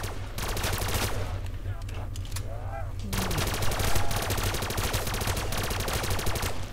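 An AN-94 rifle fires in a zombies video game, with rapid bursts of loud gunfire that pause briefly before resuming in a dense, sustained volley.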